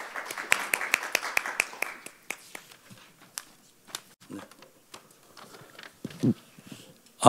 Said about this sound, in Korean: 여러분, 부회장님을 박수로 맞아주시기 바랍니다